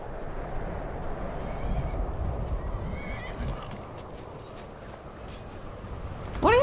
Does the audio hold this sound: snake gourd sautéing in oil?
no